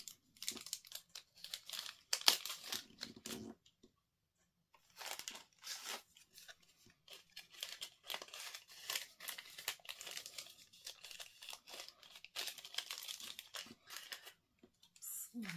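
Scissors trimming the overhanging edge of a diamond painting canvas, sounding as repeated crisp snips and crinkling plastic, close and fairly quiet, broken by short pauses.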